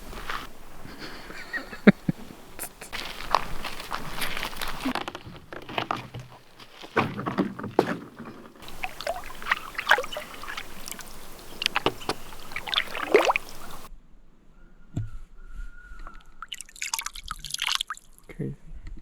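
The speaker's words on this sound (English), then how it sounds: "So I want to go for a little paddle on the lake." Paddleboard paddle strokes on a clear blue lake in Canada, with dripping water and soft splashes coming in close, irregular bursts, broken by quieter pauses and a brief stretch of faint ambient sound near the end.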